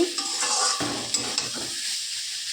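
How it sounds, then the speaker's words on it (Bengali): Soybean chunks coated in masala fry in a pan, giving a hissing sizzle with brief bursts of stirring, and then fading to a quieter fry. "তো দেখো সয়াবিন মশলা দিয়ে আমি কষাচ্ছি"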